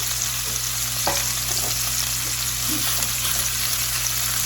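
Pork tenderloin sears in a hot skillet with a steady, close sizzle and crackle, broken by a few sharp pops and clicks across the whole stretch.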